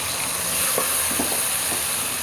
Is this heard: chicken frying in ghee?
yes